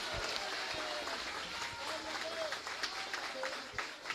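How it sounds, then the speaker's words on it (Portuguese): A congregation at a church leaders' conference applauds, with steady broad clapping and crowd noise throughout and faint voices mixed into the sound. "Se você crer, dê um aplauso bem forte ao Senhor."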